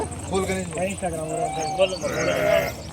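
Several Kathiyawadi goats bleat in wavering, overlapping calls close by, with voices murmuring underneath throughout.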